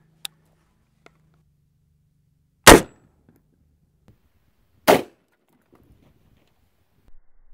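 Two sharp, loud .223 rifle shots ring out about two seconds apart, each with a brief echoing tail, set among sparse faint clicks and light handling noises outdoors.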